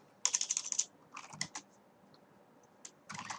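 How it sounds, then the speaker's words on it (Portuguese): Keys on a computer keyboard click in a quick run of taps, then a few scattered presses, the last including the Enter key; close and crisp in a quiet room with no talking. "eu venho aqui no final e dou um Enter"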